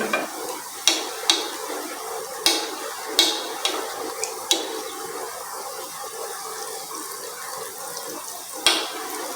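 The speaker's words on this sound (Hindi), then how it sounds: "ये देखें जी, ये तकरीबन फ्राई हो चुके हैं।" Falafel frying in ghee with a steady soft sizzle and bubbling, broken by sharp metallic clicks of a spoon tapping the pan at irregular intervals, near and fairly loud.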